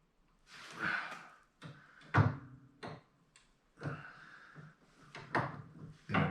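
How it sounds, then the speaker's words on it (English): Metal pin being knocked out of the brake bar on a Harley-Davidson Dyna Wide Glide during a reduced reach kit install, a series of irregular close clanks and taps with scraping handling noises between them. "knock the pin out"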